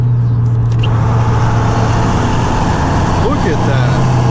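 A 12-valve Cummins diesel truck engine producing over 1,500 horsepower rumbles steadily at low pitch, loud and close, with a constant drone and faint background noise.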